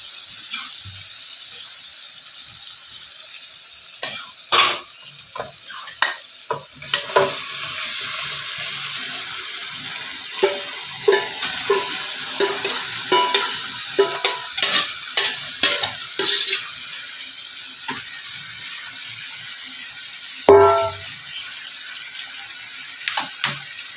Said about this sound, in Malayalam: നന്നായിട്ടൊന്ന് ഇളക്കി യോജിപ്പിക്കുന്നുണ്ട് മസാലയും ചിക്കനും എല്ലാം കൂടി